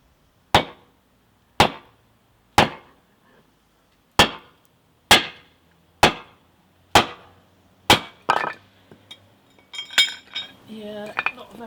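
A wood blank being split for an acoustic guitar bridge plate, a series of about eight sharp, evenly spaced striking knocks followed by looser clattering and cracking as the piece parts.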